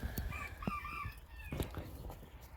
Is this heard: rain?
no